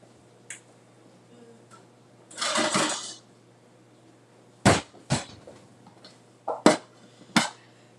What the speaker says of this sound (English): So I'm going to get a pot.